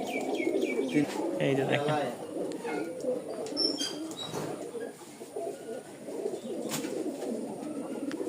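Sporting and flying pigeons in a Bangladeshi pigeon seller's loft, including yellow-eyed pairs, coo and chirp nearby alongside a steady murmur, with someone talking over them throughout.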